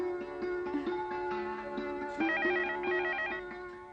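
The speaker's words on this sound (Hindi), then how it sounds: "फोन इतनी रात गए, किसका हो सकता है?" A telephone rings late at night in a home, a melodic electronic ringtone repeating its tune in steady cycles, moderately quiet and alone with no talk.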